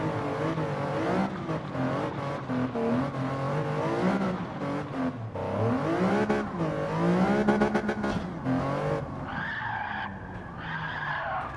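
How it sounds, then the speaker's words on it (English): Car tires skidding on dirt with a rough, sustained squeal and rumbling engine, pitch sliding up and down before a higher whine near the end. "Now the tires are making noise."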